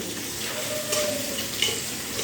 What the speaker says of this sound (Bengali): এবারে তেলের সঙ্গে এই ফোড়নগুলো একটু ভালো করে ভেজে নিতে হবে